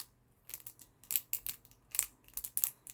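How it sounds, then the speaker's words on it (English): A small handheld clicky fidget toy is worked in quick, irregular bursts of sharp, crisp clicks and clacks, close and fairly faint against near silence. "something else I have is this little clicky clacky thing"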